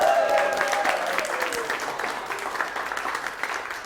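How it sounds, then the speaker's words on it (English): A round of audience applause at a gathering in a TikTok house, loud at first and slowly tapering, with faint voices and a brief tonal sound early on mixed in. "Let's give Shay a big round of applause"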